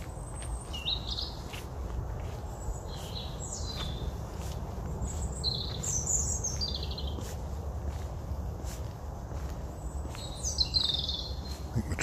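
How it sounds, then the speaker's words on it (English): Birds sing in the dark near a railway, with repeated high chirps and warbling phrases spread across the clip. The calls are fairly far off over a steady low rumble of traffic or engine noise. "Bird song again."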